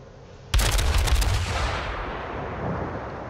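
Turrets in a video game fire a sudden, loud volley of rapid shots, a quick stuttering burst that sets off a booming rumble, then fades into a lingering, echoing tail.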